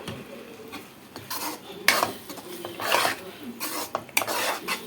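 A spoon scrapes and clinks around a pan of mango semiya kesari as it is stirred, making close, repeated scraping strokes and metallic knocks in an uneven rhythm, with no voices.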